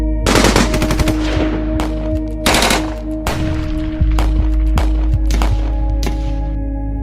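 Heavy gunfire with many weapons firing at once, loud bursts of rapid shots overlapping in clusters against a low rumbling background, with no talking.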